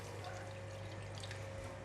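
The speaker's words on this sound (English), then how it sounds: "Add in a little bit of water." Water poured into a pan holding prawn heads and shells, a steady soft pouring and trickling wash at moderate distance with a low hum running underneath, no talk.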